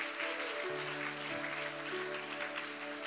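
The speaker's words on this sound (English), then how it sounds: "Can the women give a hand clap to the Lord for that?" Women in a church congregation clap their hands together in a steady, dense round of applause, with a sustained tone humming underneath.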